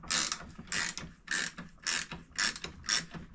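A ratchet wrench with a 7/16 socket loosens a bracket on a Timemaster mower in six evenly spaced rasping bursts of clicking, close and loud, with short pauses between strokes and no talking.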